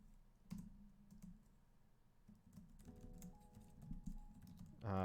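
Typing on a computer keyboard gives a quiet run of irregular key clicks and taps at close range, with a brief burst of something louder right at the end.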